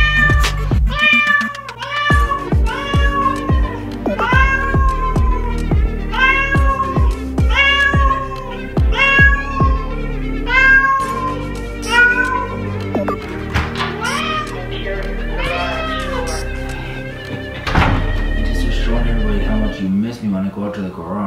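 A cat meows again and again in drawn-out, wavering cries, loud and close, with some low background noise and a brief voice near the end.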